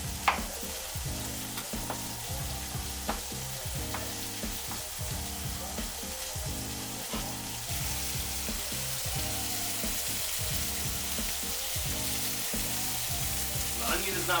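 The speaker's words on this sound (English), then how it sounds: "I'm just gonna do some diced onion" Diced onion fries in a hot pan with a steady, continuous sizzle and crackle. The stirring stays close and fairly loud from start to finish.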